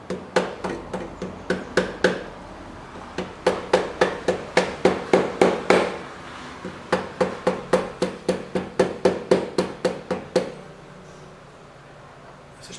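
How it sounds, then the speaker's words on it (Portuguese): A rubber mallet hammers a tight suspension bushing into place while replacing the shock absorbers on a Yamaha XV 250 Virago motorcycle: about thirty close, sharp knocks in quick bursts, then a short quiet spell. "Deixa eu pegar meu martelo de borracha aqui."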